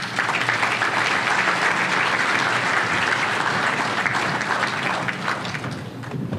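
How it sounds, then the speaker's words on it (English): Crowd at a county Republican party dinner applauding a state senator, sustained loud clapping from many people that tapers slightly at the end. "Give him a big hand of applause."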